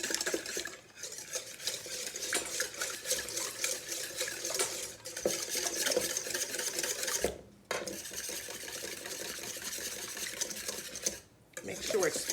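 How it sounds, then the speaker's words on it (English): Oil and wet ingredients for carrot cake batter are whisked in a bowl, a rapid continuous rhythmic scraping and clinking of the whisk, close and steady, with a few brief pauses. "Just give it a quick whisk."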